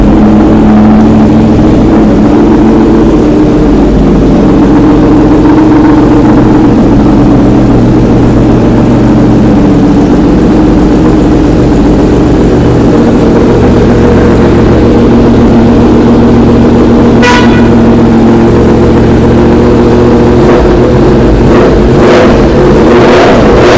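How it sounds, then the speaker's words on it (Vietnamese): A loud motorcycle engine rumbles continuously at close range, a Yamaha R15 (2018) started and revved, holding a steady low drone with slight shifts in pitch and a brief sharp click partway through. "bây giờ nổ máy cho anh em nghe tiếng máy nè"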